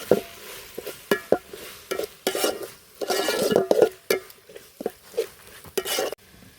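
Spoon stirring homestyle Kerala chicken curry with curry leaves in a pan, irregular scraping and clinking strokes with a faint sizzle, close and moderately loud, no talking.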